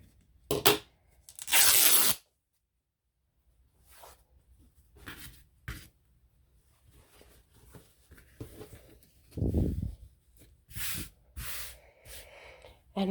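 Fabric scraps being cut for a scrappy box craft, with a few close, dry snips and rustling bursts separated by quiet pauses, alongside light handling noise at a soft indoor level.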